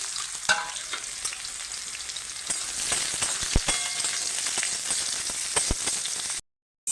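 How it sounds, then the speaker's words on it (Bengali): Steady sizzling of ridge gourd frying in hot oil, with occasional sharper crackles and spoon scrapes, close and continuous. "এবার আমি ঝিঙেগুলোকে ভেজে নিচ্ছি"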